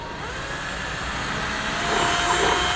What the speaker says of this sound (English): we're going to come underneath the bumper and drill a hole. We just want to go through the plastic. So I'm going to be using a 5/16 drill bit